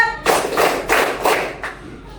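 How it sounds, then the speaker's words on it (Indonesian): Group hand clapping in a classroom, five clear claps in an even counted rhythm, fairly close, with faint voices beneath. "Tepuk 1, tepuk 2, tepuk 3, tepuk 4,"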